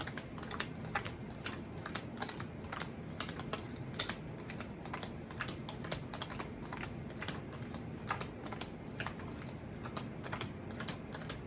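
Playing cards shuffled by hand, dealt out pile by pile, a quick run of crisp close taps and flicks in steady succession, fairly quiet, with no talking.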